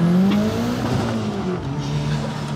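A Mitsubishi Eclipse GSX with roughly doubled horsepower and 240,000 miles accelerates hard in first gear, its engine note rising in pitch, loud and close, with a brief tire chirp early on.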